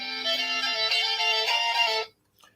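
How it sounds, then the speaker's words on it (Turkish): A mobile phone ringtone plays a steady electronic melody loudly and close by for about two seconds, then cuts off abruptly into silence. "Telefonum çaldı."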